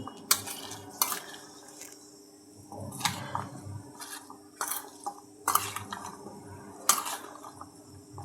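Cauliflower pieces are tossed with lemon juice, salt and green chilli in a bowl, making soft, close stirring and scraping sounds broken by several sharp clinks of a utensil against the dish, with no talking.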